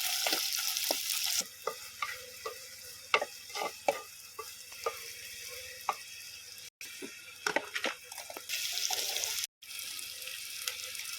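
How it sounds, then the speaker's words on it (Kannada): Chopped onion and green chili being stirred in hot oil, a soft sizzle beneath repeated scraping clicks of a spoon against the pan. The sound stays close and steady, with no talking. "ಕಟ್ ಮಾಡಿಟ್ಟ ಈರುಳ್ಳಿ ಮತ್ತು ಕಾಯಿ ಮೆಣಸನ್ನು ಹಾಕಿ ಸ್ವಲ್ಪ ಮಿಕ್ಸ್ ಮಾಡುವ"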